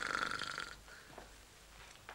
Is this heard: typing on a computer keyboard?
no